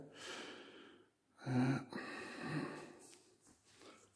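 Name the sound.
heavy breathing into the microphone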